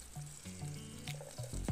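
Food frying in a pan, a soft crackling sizzle with pops and splatters close by, a metal ladle scraping near the end, quiet and brief.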